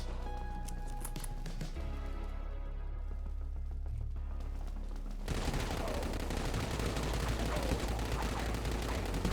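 Rapid Dawn SMG fire in the Dead Frontier game, a dense unbroken burst of shots filling the second half, after a quieter stretch of game ambience and faint background sounds.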